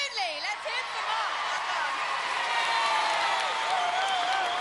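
Studio audience applause and cheering for a contestant on the Gladiators TV show, a steady broad wash of clapping with a few whoops, close and loud, with a host's voice carrying over it.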